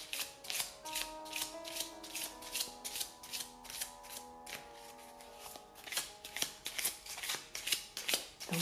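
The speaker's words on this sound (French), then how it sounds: "Moi, je bats les cartes" A deck of oracle cards being shuffled by hand, a close run of quick riffling flutters and soft slaps repeating in bursts, gentle and steady with no voices.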